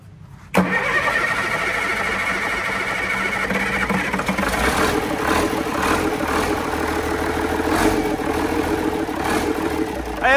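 A Cummins C300 diesel engine cranks and catches abruptly within the first second, then settles into a loud, steady, even idle that runs close by for the rest of the clip.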